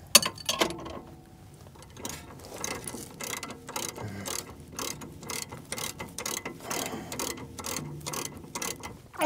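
Ratchet tightening the front strut bolts on a Mercedes W205, a close run of rapid clicking pawl strokes in quick repeated bursts, with some faint metallic knocks between them and no talking.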